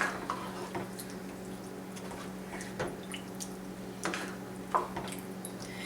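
Shrimp being stirred into diabla sauce in a pan, giving quiet wet squishes and occasional utensil clicks against the pan over a steady low hum.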